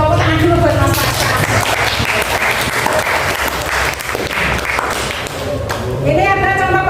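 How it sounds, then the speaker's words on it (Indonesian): A class of students applauds steadily for a classmate during an automotive lesson on cylinder heads, dense clapping throughout with voices talking over it at the start and end. "tepuk tangan dulu buat Mas Tasya"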